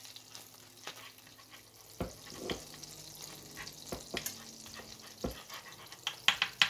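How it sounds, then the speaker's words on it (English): Garlic sizzles in hot butter in a pan, a soft steady crackle and fry with a few sharper clinks and stirring knocks scattered through, close up and with no talking. "I got some garlic. Going to get it up in that butter."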